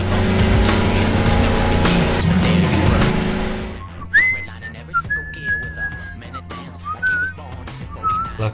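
A car speeding during a chase in a Gmod animated film, with a loud, sustained engine roar at first, then fading into high, whistling, squeal-like tones and sharp bursts.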